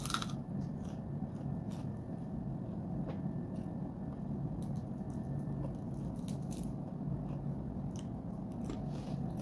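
Someone bites and chews crunchy fried lentil fritters (bakwan): soft, close crunches and crackles repeat irregularly over a quiet background hiss, with no talking.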